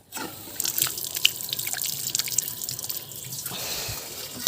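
Fresh water splashing and trickling from a tap into a container for chicks in a farmyard, a close, steady running stream that stops near the end.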